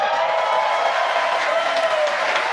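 A crowd of SpaceX staff claps and cheers in a continuous roar after a Falcon 9 first stage lands on the drone ship, with a voice talking over the noise.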